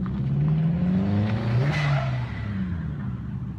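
A Subaru rally car revs hard while sliding through dirt at a Japanese drift circuit, the engine note rising and falling loudly and close, with a brief tire squeal midway.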